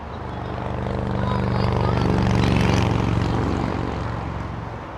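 A propeller aircraft passing at Los Angeles International Airport, a steady engine drone that swells to a peak midway and then fades slightly, loud and continuous with no talk over it.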